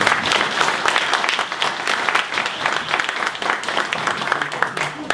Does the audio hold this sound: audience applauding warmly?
yes